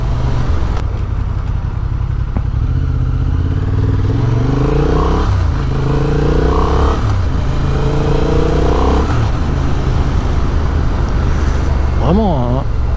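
A Honda 750 Hornet A2 (2025) motorcycle engine pulls up through the gears with rising, stepped tones of accelerating revs, steady and fairly loud, carried over constant road and wind noise with a voice talking over it.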